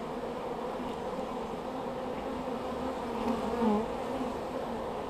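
Honey bees buzzing around an open hive during a frame inspection, a dense, steady drone close by with individual bees whining past, briefly louder near the end.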